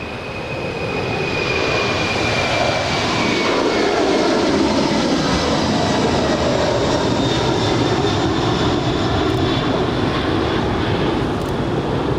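Boeing 747 jumbo jet taxiing at Los Angeles International Airport, a loud continuous engine roar and whine that swells in and holds steady throughout.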